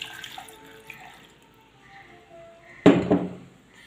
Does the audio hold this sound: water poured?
yes